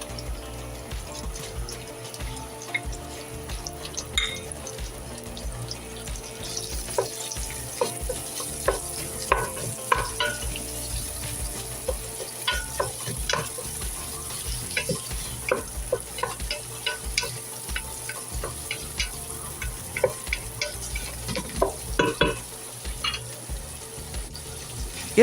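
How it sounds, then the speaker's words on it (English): Italian sausage browning in a pot for lentil soup, a continuous close sizzle broken by frequent scraping and clicking stirring strokes, with running water briefly audible and no talking. "Add the sausage, stir and brown until just cooked through"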